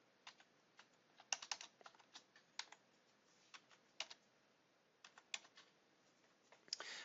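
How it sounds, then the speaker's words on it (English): Fingers tap out HTML code on a computer keyboard in quick irregular bursts of clicks with short pauses, soft and close, no voices. "So I'm going to type div class equals"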